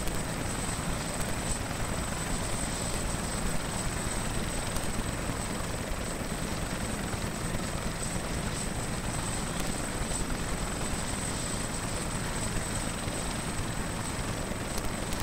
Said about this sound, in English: and in a slow hover taxi, then we're going to get out of the helicopter